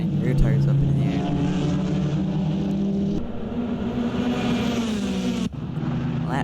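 TCR touring race cars, including a Hyundai Elantra N TCR, crossing the line at the Nürburgring: loud sustained engine drone with shifting pitch as cars pass, under continuous commentary.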